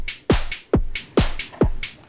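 Electronic drum pattern from a Korg Volca Drum layered with a Volca Beats: four punchy kicks with pitch-dropping tails, alternating with bright open hi-hat hits in a steady dance rhythm, loud and clear with no voices.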